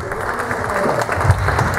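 Audience applause at a conservatory concert for a European Music Day celebration: a dense, steady patter of clapping from a room full of people, fairly close and without a break.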